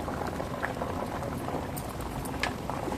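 Sambar of drumstick leaves and toor dal boils steadily in a pot, a continuous bubbling hiss with occasional small pops, fairly loud and close, with no voices.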